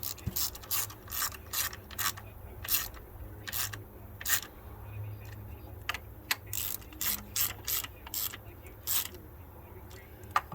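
Speed wrench ratcheting spark plugs on a 2012 Ford Fusion during valve cover work: a close series of bright clicking ratchet bursts in irregular runs, with a low steady background hum and no talking.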